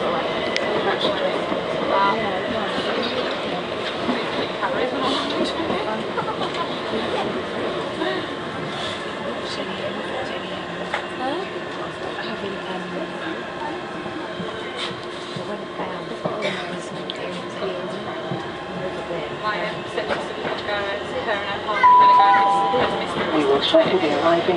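Riding a train from Falconwood toward Charing Cross, the carriage gives off a continuous rumble and rattle of wheels on track, moderately loud and steady, with faint chatter and brief tonal chimes near the end.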